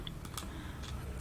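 A computer mouse clicks a few times on a trading platform, with short, faint, dry clicks spaced irregularly over a quiet background.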